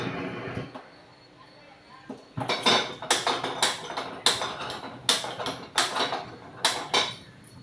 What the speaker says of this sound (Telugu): కళాయి పెట్టి గ్యాస్ వెలిగించుకోవాలి